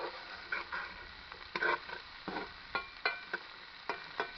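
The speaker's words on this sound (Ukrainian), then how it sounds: "Смажимо, доки цибулька не почне робитися золотистою." Onions sizzle softly in a pan, broken by irregular scrapes and clinks of stirring, close by and fairly quiet, with no talking.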